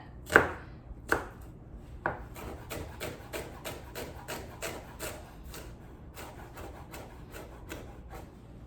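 A knife chops raw onion finely on a board: a few loud separate strikes, then a quick steady run of lighter cuts, close and alone.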